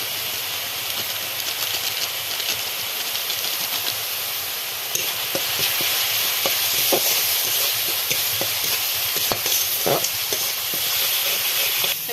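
Spices frying in a pan with turmeric and Kashmiri chilli powder for a prawn fritter curry, a loud, continuous sizzling hiss that swells midway, with faint stirring scrapes mixed in.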